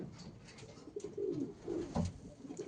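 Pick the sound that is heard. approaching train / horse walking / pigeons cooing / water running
pigeons cooing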